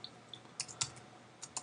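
Faint, sparse clicks of a computer keyboard as a few keys are tapped, quiet and close with no talking.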